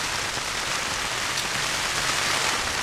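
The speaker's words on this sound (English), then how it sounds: "It's absolutely chucking it down with rain at the moment" Heavy rain pours down steadily on a hilltop at Titterstone Clee Hill, a dense, loud, unbroken hiss with no other sounds.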